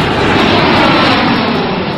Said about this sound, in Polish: Air France 447 wylatuje z Rio de Janeiro do Paryża.